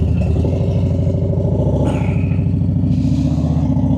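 Motorcycle ridden on a long road trip, steady loud engine drone with harmonic pulsing and a constant rush of wind buffeting over it, no pauses.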